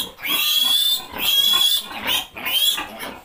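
A piglet squeals loudly and close up in three long, shrill bursts with short breaks between them, handled on a small backyard pig farm.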